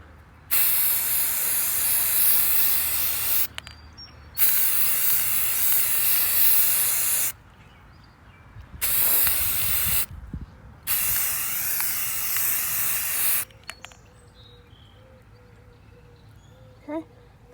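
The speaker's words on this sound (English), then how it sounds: "I'm going to go ahead and do the first coat of primer." Primer is spray-painted onto sanded Jeep door hinge and hood pieces in a first coat, heard as loud, close, steady aerosol hissing in four long bursts separated by short pauses, then quiet handling noises.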